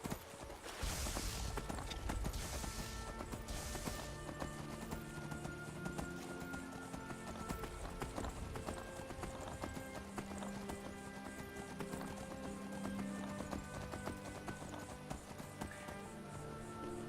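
Horse hooves clip-clop at a steady galloping rhythm in Skyrim, close and continuous over a busy backdrop of game music and ambience.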